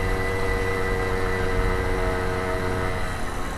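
A 1978 Puch Newport moped strains uphill, its small engine buzzing in a steady, unbroken drone close by with no voices.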